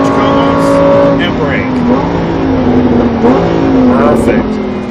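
A Lamborghini Huracan Performante accelerates hard on a Las Vegas track, its engine loud and close, pitch climbing steadily through the revs while a voice talks over it.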